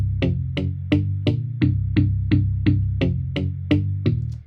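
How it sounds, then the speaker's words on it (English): Palm-muted rock rhythm guitar chugs out about a dozen evenly spaced, dampened chord strokes, each with a sharp pick attack and short thick low ring, played steadily and close with no talking. "But I've gone to what we call a palm muted rhythm guitar."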